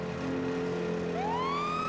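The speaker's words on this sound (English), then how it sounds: "Now there's another button that'll turn your sirens on." A police car siren in GTA roleplay starts up and rises steeply in pitch over a steady engine hum, loud and close, with no voices.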